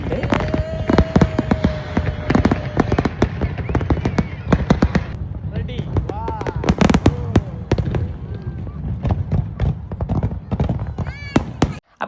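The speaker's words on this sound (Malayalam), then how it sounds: "അത് കഴിഞ്ഞ് നേരെ ഫയർ വർക്ക് സ്റ്റാർട്ട് ചെയ്തിട്ടുണ്ട്." A National Day fireworks display at the Corniche: rapid, dense bangs and crackling bursts go on throughout, with whistling rockets rising in the later seconds and crowd voices mixed underneath.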